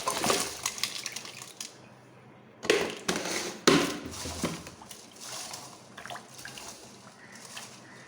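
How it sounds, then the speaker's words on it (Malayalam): Chinese potatoes (koorka) are shaken in a jar with water to clean them, producing bursts of loud rattling, scraping and sloshing that come in uneven surges and pauses, close by. "കുറച്ച് നേരം നന്നായിട്ട് ഷേക്ക് ചെയ്ത് കൊടുത്താൽ മതി"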